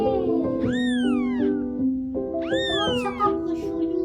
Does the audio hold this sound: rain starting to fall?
no